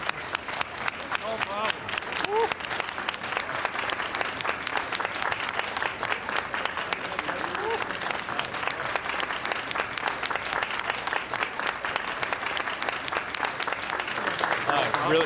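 Sustained audience applause at a NEESwood earthquake-testing project event, dense even clapping from a crowd that holds steady and loud through the whole stretch.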